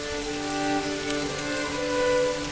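Steady rain falls in the video game Manor Lords, a soft continuous patter over a low droning music bed, with no talking.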